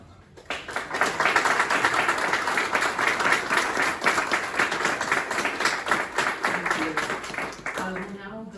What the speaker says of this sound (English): give you a round of applause, because this was hard work